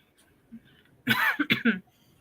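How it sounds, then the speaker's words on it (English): A few quick coughs close by, breaking a quiet background, with a faint throat-clearing sound just before. "I just started coughing again."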